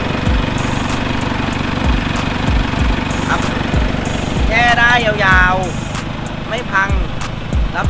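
A 2020 3.0-litre single-turbo diesel pickup engine runs steadily with a rough, rhythmic chugging throb and turbo whine, close and loud, while someone talks over it.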